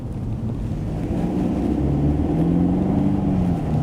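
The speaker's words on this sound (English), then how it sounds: "And the tone of the exhaust is just, it's beautiful." A Mercedes-Benz SLC 300 roadster's four-cylinder engine drones steadily from the exhaust, a continuous low rumble with slight rising pitch as it pulls, heard from inside the moving car with wind noise and no talking.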